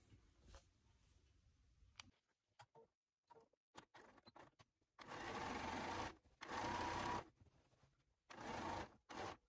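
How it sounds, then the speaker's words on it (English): A domestic sewing machine stitches through the inseams and crotch seam of a pair of pants, starting with short stop-start bursts of needle clatter, then settling into three longer, steady whirring runs separated by brief pauses. "you're going to stitch all the way through those inseams and all the way up the center back of the back of the crotch seam"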